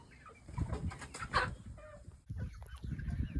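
Egg-laying hens cluck softly in a new two-story nesting box within a feather net enclosure, with several short bursts of murmuring calls close by and no talking.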